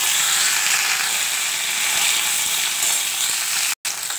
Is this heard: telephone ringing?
no